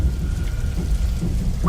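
Rain falls steadily with a low rumble of thunder in the video game Interrogator Remastered, a dense, continuous wash that stays even and fairly loud throughout.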